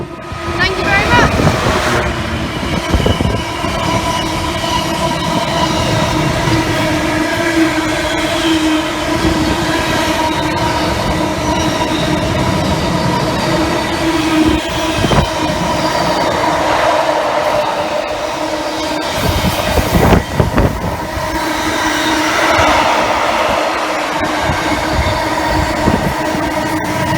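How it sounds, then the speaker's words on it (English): A Class 66 diesel locomotive hauls a freight train past on the West Coast Main Line at Cheddington, a loud, sustained engine drone and rolling wagon rumble with rhythmic wheel clatter, close by and continuous throughout. "Class 66 to London Gateway from Lawley Street"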